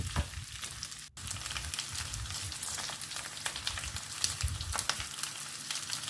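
Beef karahi frying in mustard oil gives a steady, fairly quiet sizzle with faint crackles throughout and a brief dropout near the start, with no voices.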